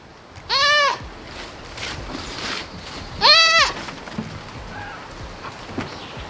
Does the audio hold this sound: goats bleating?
yes